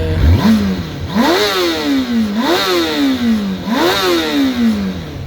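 A Kawasaki ZX6 motorcycle engine revs up sharply several times in a row, each roar rising and falling back, close and loud.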